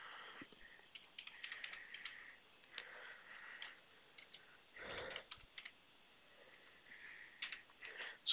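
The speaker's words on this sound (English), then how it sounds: "So whenever I am typing" Close, quiet clicks of a computer keyboard come in irregular bursts of keystrokes with short pauses between them, the rattle of individual keys clearly separated.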